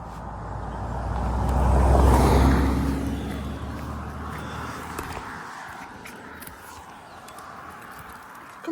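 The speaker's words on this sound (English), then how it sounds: "we need to just go in because there's a car coming" A car approaches and passes along a quiet country lane, its low rumble swelling to a peak near two seconds and then fading away, leaving faint outdoor ambience.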